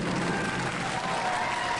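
Crowd at a Robot Wars arena cheering and applauding during a Series 4 Pinball tournament run, a steady, dense roar of clapping and voices that fills the whole moment without a break.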